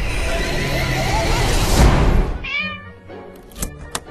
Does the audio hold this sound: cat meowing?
yes